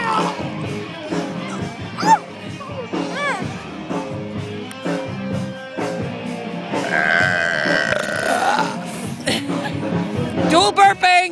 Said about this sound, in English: Dual burping!